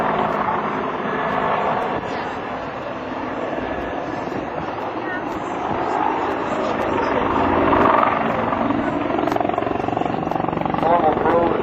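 CH-146 Griffon twin-engine helicopter flying straight away after a vertical climb at an air national guard open house, giving a broad, sustained rotor and engine roar, with an announcer talking over it throughout.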